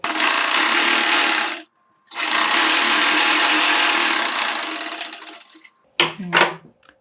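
A sewing machine stitches puff sleeve fabric in loud, continuous close-up runs, pausing briefly and then starting again, before ending with a few short handling bumps.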